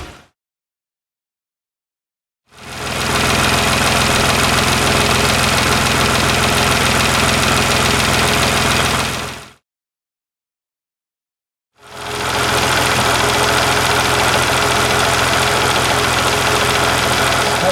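Nissan GTR engine idling after fuel, power steering and engine oil lubricant additives, a steady mid-pitched rumble in two long stretches of about seven seconds each, separated by silence, close and loud with no talk.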